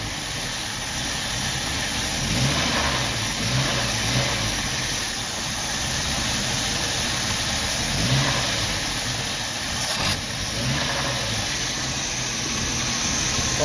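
A 1990 Jeep Wrangler engine runs rough and steady at close range, with a faint recurring knock under a continuous mid-pitched drone and no talk.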